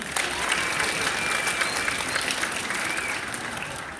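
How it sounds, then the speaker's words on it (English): A crowd at an evening award event claps steadily for four seconds, a dense, even wash of applause with a few faint whistles mixed in. "please still give him a round of applause"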